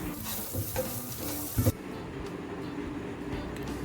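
Curry leaves hit hot oil while poha chivda is made, giving a crackling sizzle with a brief loud pop partway through, then a steady quieter fry with no talking.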